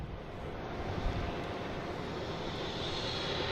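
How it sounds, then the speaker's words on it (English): A Delta airliner lands at Boston Logan after a flight from LaGuardia, heard as a steady broad engine roar at moderate distance with no voices. "Just had a Delta land coming in from LaGuardia."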